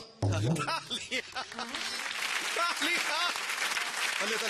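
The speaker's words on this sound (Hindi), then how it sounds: "तालियां" Applause from a studio audience at a stand-up comedy show, The Great Indian Laughter Challenge, starting abruptly and holding steady and loud throughout, with some talking mixed in.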